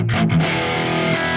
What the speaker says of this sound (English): And now engaging the plugin doubler.